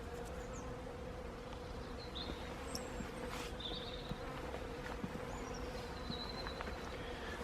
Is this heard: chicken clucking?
no